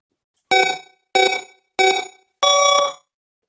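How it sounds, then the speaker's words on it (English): A game-show style timer sounds its start signal: three short, loud electronic tones in a steady rhythm, then a longer final tone, alone with no talking. "will control this process with a timer, which provides a start sound"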